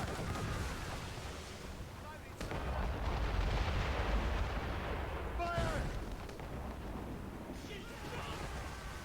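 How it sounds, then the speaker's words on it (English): Mortar fire from a sailing warship sinking enemy ships in Assassin's Creed Rogue, with heavy booming blasts over a constant roar of sea and battle, a sharp crack near the start and further impacts later, under a speaking voice. "So we have to sink 10 ships with mortars."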